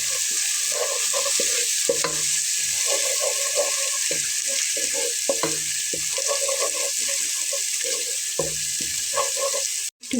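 Cumin and coriander powder sauté in a pan for a Bengali lentil curry, a constant hiss of frying with repeated scraping stirs and clinks, close and loud, without talk.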